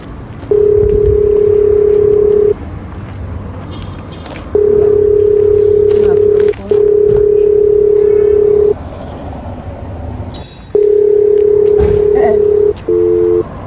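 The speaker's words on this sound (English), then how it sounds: "Let me call a girl." A telephone call being placed: several long steady tones sound loudly in separate bursts with short gaps, followed by a brief two-pitch beep at the end, over a noisy outdoor background.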